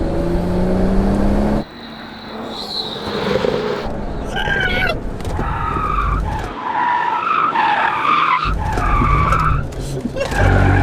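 Tires of a stock 2018 BMW M240i skidding during a cone course test, loud continuous squealing and screeching with engine roar and wavering pitch, close and sustained, with people talking over it.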